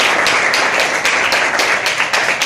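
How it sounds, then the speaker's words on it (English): Students in a classroom clap for a presenter after an English-language project talk, a dense, steady patter of hand claps with sharper individual claps standing out, close and fairly loud throughout. "Thank you. Clap for her."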